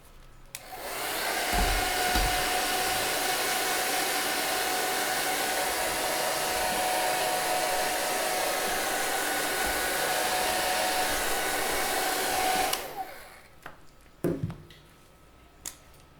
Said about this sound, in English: I'm going to use the hair dryer and just dry it before I sign it